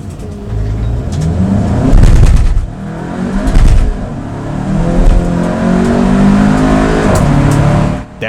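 A car accelerates hard on a straight of the Nürburgring Nordschleife, its engine revving up through rising pitch with gear-shift dips, loud and close from inside, with a sustained drone afterward.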